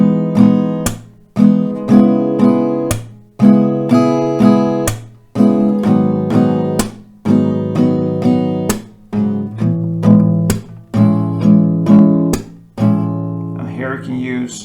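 Acoustic guitar strums a slow pattern from a song, three downstrokes then a percussive clap-like slap, repeated in even rounds per chord. It is loud and close, with no voice.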